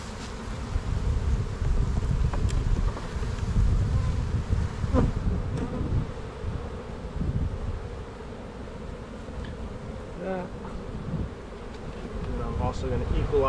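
Many bees buzz steadily around queen breeding hive boxes outdoors, a close, continuous drone with individual insects passing near, light wind, and a few brief clicks of handling.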